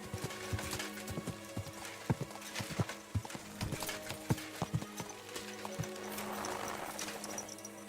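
Hooves of an untacked horse clip-clop in the medieval video game Kingdom Come: Deliverance II, a loud, fairly regular series of sharp hoof strikes that grows busier toward the end, with no talk over it.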